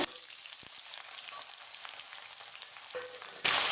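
Chopped small onions (shallots) frying in oil make a steady, close sizzle with faint stirring, swelling into a loud hiss at the very end.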